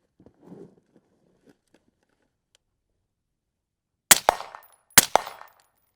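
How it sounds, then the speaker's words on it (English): Two sharp rifle shots fired from the prone position at an IPSC target on a carbine course, spaced under a second apart, loud and close with short reverberant tails, preceded by faint rustling as the shooter drops down. "You're going to start standing, you're going to get to the prone, and then you're going to shoot 2 rounds."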